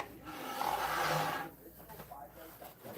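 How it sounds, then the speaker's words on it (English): A piece of wood is sanded by hand in a workshop, a raspy rubbing stroke swelling and fading over about a second, followed by quieter scraping under faint background noise. "Do some sanding on this heifer."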